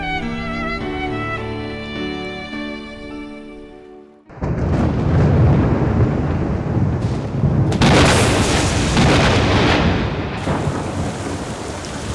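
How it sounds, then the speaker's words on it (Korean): Tonal music fades out, then a loud, close thunderclap bursts in and rolls on as a long rumble, swelling again midway with heavy monsoon rain pouring throughout. "천둥 번개는 폭우를 몰고 왔다."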